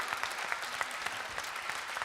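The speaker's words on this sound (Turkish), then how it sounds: "Bir büyük alkış lütfen." Sustained applause from a Turkish singing-competition audience, steady dense clapping at moderate distance with no talk over it.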